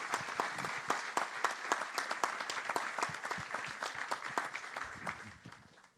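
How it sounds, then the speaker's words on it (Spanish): Audience applause at a talk, a steady wash of many hands clapping with sharp individual claps standing out, holding strong for most of the stretch before tapering off near the end. "Un aplauso para ustedes,"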